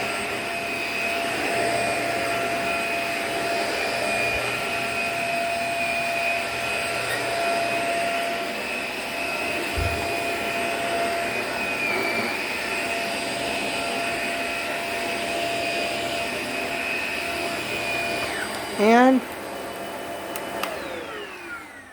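A vacuum cleaner runs continuously with a loud, steady whine and hum, a brief bump and click near the end as it shifts.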